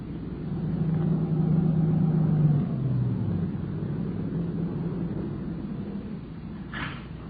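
A dark late-model sedan on a dirt road pulls off and rolls to a stop near a shack, its engine a loud, steady drone that slowly drops in pitch and fades as it settles, ending with a brief thump.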